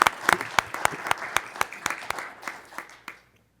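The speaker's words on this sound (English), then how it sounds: "I think they are due a round of applause" A round of applause for staff at a county board of commissioners work session, a small group clapping with distinct, sharp individual claps that thin out and stop near the end, leaving silence.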